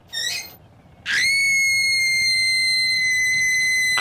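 A woman's shrill, prolonged cartoon-style scream from a Thomas the Tank Engine story, a short squeal followed by a loud sustained piercing shriek that holds steady to the end.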